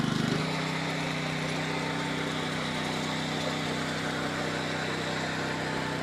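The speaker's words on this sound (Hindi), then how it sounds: "मशीन का वर्क देखो आप, मशीन का काम देखो, इंजन का काम देखो आप, किस तरीके से जरा सी भी आवाज़ चेंज नहीं है" A power tiller weeder's engine runs steadily and loudly with a constant, unchanging drone, close by and alone.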